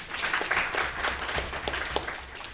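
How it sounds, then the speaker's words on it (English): Audience applause at a university keynote event on English-medium instruction, a fairly steady wash of clapping lasting a couple of seconds at moderate loudness with no talking over it. "You deserve a round of applause to yourself."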